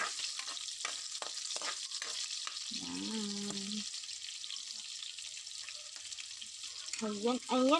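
Pork fat browns in a pan with a steady bubbling sizzle, several spatula knocks early on, and a couple of short vocal sounds over the frying.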